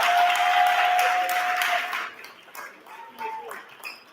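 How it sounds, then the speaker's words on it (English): An audience at a university coronation ceremony applauds in a broad, dense wash for about two seconds, then the clapping thins out into scattered claps and murmuring voices. "Let's have another loud round of applause for our Cheyney."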